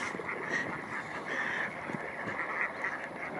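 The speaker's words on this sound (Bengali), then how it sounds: "এই আশা হাঁসগুলো না আজকে ডিম পারছে" Domestic ducks quack repeatedly nearby, several overlapping nasal calls in irregular bursts over a busy outdoor background, with no talking.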